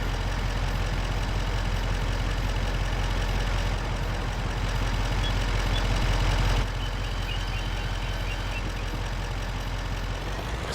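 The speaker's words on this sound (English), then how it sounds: "Let's just get that tractor going" Tractor engine in Farming Simulator 25 runs at a steady, loud drone for the whole stretch, with a brief swell in revving midway before settling back to an even idle-like hum, no talk over it.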